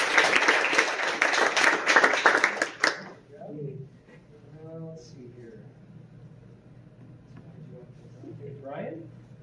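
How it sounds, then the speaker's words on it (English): Audience applause at a school board meeting honoring a nominated staff member: a few seconds of loud, dense clapping that stops abruptly, followed by quiet room tone and a short, soft spoken voice. "so let's give her a round of applause."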